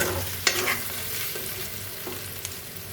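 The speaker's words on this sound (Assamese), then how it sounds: "এয়া আমি কচুখিনি এতিয়া ভাজি আছোঁ" Taro pieces fry in a pan for pork curry, giving a steady close sizzle broken by a few clinks and scrapes of stirring, with no talking.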